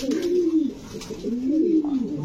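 A fancy pigeon at a breeding farm gives two rolling, throaty coos in close succession, near and clear with no talking.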